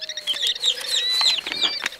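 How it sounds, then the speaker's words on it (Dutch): Angry birds squawk and chirp with rapid flapping wings, shrill calls overlapping in quick, close bursts over a couple of seconds. "dan worden de vogels nog bozer"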